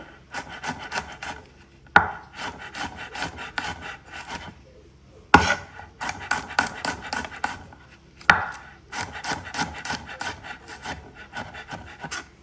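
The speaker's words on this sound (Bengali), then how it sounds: "রসুন আর পেঁয়াজগুলো কুচি কুচি করে কেটে নেব।" A knife chops garlic and onions finely on a board for khichuri, in three runs of fast, steady chopping separated by short pauses, close and clear.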